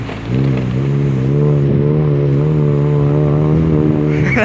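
Toyota FJ driving through a river crossing in New Zealand's South Island, a loud close engine droning steadily with a low harmonic growl that rises slightly in pitch as it revs, no talk.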